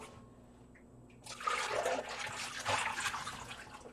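Water poured from a container into a dye pot holding water and white vinegar, a steady splashing pour that starts after a quiet second and continues, moderately close.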